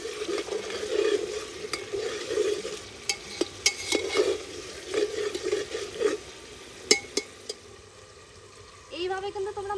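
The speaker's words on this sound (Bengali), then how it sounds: "বাটা মশলাটা দিয়ে ভালোভাবে কষিয়ে নেব।" Chicken cooking in a single pot with ground spice paste, a steady soft sizzle under repeated stirring and scraping with a few sharp clinks of a utensil, then a brief quiet before the frying picks up again.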